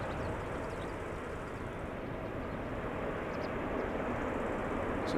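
A Boeing 777-300 jet airliner taking off from Amsterdam Schiphol, a constant broad engine roar heard from some distance, fairly quiet and even, with faint chirps overhead near the end.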